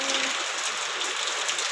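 Rain falls in a steady, dense hiss with no breaks, close by and fairly loud, and no voices are heard.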